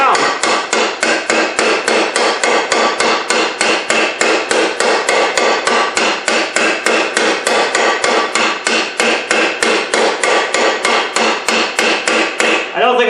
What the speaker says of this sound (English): Hit it evenly all the way around, and the bearing will work its way down.